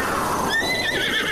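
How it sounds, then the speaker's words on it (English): A horse in Zelda: Breath of the Wild gives one rising, wavering whinny, loud and close against a faint background, with no speech. "I call forth from the heavens my horse"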